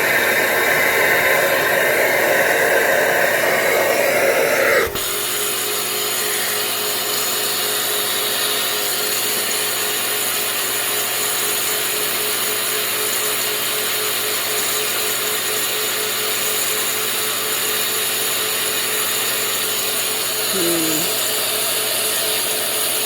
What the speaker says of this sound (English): I'm turning the vacuum on and the heat gun on